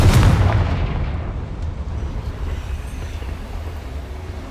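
A Confringo fire spell explodes in the Hogwarts Legacy video game, opening with a loud, booming blast that fades into a long rumbling tail. No one speaks.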